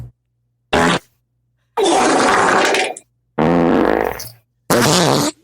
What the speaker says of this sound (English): That's definitely a fart. That's a fart.